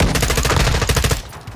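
M4 rifle firing in Call of Duty: Modern Warfare, a rapid automatic burst of evenly spaced shots, loud and close, cutting off abruptly near the end with no voices over it.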